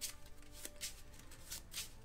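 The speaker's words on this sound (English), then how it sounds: "we need to shuffle." A deck of Marvel Legendary Guardians of the Galaxy game cards is shuffled at a table, several quick papery riffling bursts at soft, close volume with no talking.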